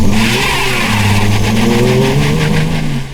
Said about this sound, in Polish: zrobimy próbę Huberta samochodem, zobaczymy czy Hubert ma szperę, czy jej nie ma, czy ma zwykły mechanizm różnicowy